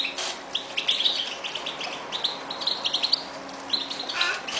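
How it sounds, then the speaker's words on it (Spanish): European goldfinch singing nearby, bright rapid chirps and twittering phrases in short bursts over a quiet background, fairly soft. "Este es el jilguero posero de Paco."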